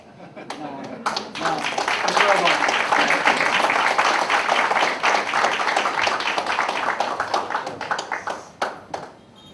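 An audience gives sustained, dense applause for the Japan Coast Guard at an assistance event in Kabekel M'tal, a loud clapping crowd that swells, holds steady and then thins into scattered claps.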